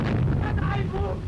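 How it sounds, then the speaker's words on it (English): An underwater depth charge explodes in a documentary scene, a heavy muffled boom with rumbling low-frequency roar lasting about a second. "Water pressure triggers the explosion, sending a shockwave ripping through the ocean."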